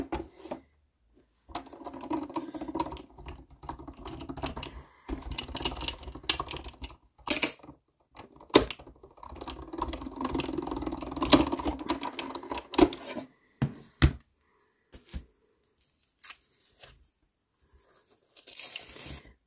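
A die-cutting machine rolls used bubble wrap through in bursts of rapid crackling and crunching, with sharp snaps and popping clicks separated by brief pauses, close and moderately loud during a scrapbooking session.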